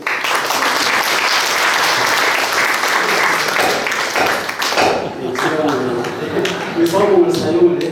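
Sustained applause from a gathered crowd at a founding meeting for a history museum in Jinju, right after a motion passes, loud and steady clapping that fades as a voice resumes speaking.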